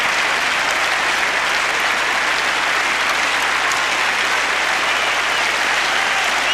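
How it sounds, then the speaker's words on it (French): Tennis crowd at Roland Garros applauding after a point in a 1990 fourth-round match, a dense, steady wash of clapping from a large stadium audience that holds loud and even throughout. "Et vous voyez les applaudissements du public."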